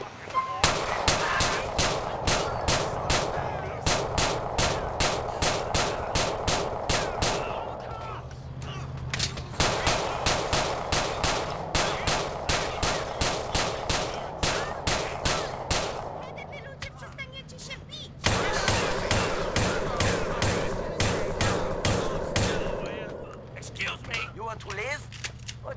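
Rapid automatic gunfire in the open-world game GTA IV, sharp cracking bursts in long rhythmic runs separated by brief pauses, loud and close, with someone talking between the volleys.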